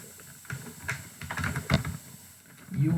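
Keys clatter on a computer keyboard in quick, uneven bursts of soft taps, close and fairly quiet, with brief pauses between strokes.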